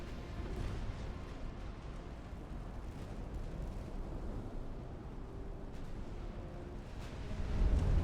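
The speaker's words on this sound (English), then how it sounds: "While the Hagen tries to fire on the battleship." Warship artillery booms in the naval game Ultimate Admiral: Dreadnoughts, a dense low rumble of distant gunfire and explosions rolling continuously, fairly quiet overall with a heavier thud near the end.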